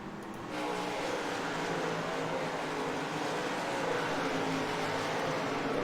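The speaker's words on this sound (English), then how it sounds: "Roar of the Gander Outdoor Truck Series here. Absolutely a remarkable noise to hear and see." Race trucks of the Gander Outdoor Truck Series roar around Myrtle Beach Speedway, a loud, continuous wall of engine noise that swells after a brief quieter start and holds steady throughout.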